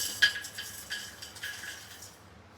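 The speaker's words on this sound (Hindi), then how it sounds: "कढ़ाई रख दी है और स्लो फ्लेम पे इसको मैं ये सब चीजों को डाल रही हूँ" Dry fruits going into a kadhai on a slow gas flame, with soft clinks and scrapes of a spoon stirring them against the metal, a few light taps spread over a couple of seconds at close range, no voices.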